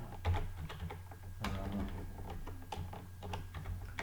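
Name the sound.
typing on a computer keyboard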